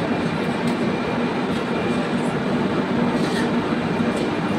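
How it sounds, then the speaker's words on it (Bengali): A passenger train on the Howrah to Mumbai route rolling out of Raigarh station, a loud steady rumble of wheels and wagons with faint clicks and squeals, no talk. "ছাড়বে ট্রেন।"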